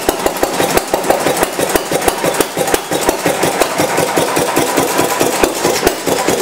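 A restored throttle-governed Economy hit-and-miss style engine firing on every cycle, a loud, close, steady rhythm of sharp regular chuffs and knocks that goes on without a break.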